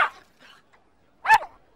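A dog gives a short bark followed by a single louder, sharper bark about a second later, heard close and clear against near silence.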